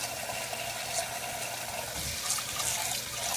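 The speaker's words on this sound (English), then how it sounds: "the first thing we're going to do is we're going to run some cold water over it." Cold tap water runs steadily over short grain rice, a soft continuous splashing and trickling that stays faint and even, with no voices.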